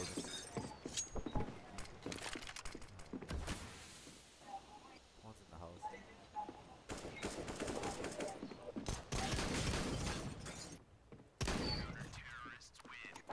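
Rapid bursts of gunfire and fusillades in an online shooter game, loud and close, with several sharp volleys spread across the stretch while players talk over the shooting.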